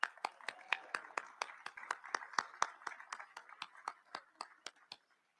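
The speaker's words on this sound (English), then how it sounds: "Let's give them another round of applause." An audience at a Seneca Nation gathering claps, with sharp, regular handclaps about four to five per second, moderately close and fairly faint, with no voices over them.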